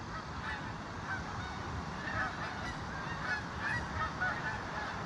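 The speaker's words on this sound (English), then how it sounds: "I can hear the geese heading towards the river" Many geese honk continuously in a loose, overlapping chorus, fairly distant, over a steady rumble of wind.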